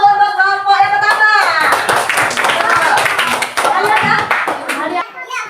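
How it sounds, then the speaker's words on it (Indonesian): A classroom of children claps for the first group to present, with brisk, dense clapping that fades toward the end, mixed with children's chatter and a teacher's voice. "Beri aplaus dulu untuk kelompok yang pertama."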